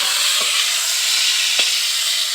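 Pointed gourds (potol) fry in hot oil just after being turned, giving a steady close sizzle with a couple of soft spatula knocks against the pan.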